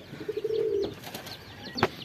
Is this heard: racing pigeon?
yes